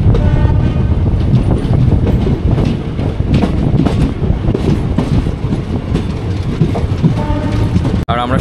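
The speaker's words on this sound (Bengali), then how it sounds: "ট্রেন এখন ঢুকছে নৈহাটি জাংশন।" Jangipur Superfast Express train entering Naihati Junction, heard loud and close as a continuous roar of wheels with rhythmic clickety-clack over the rails, lasting the whole stretch with a sharp click near the end.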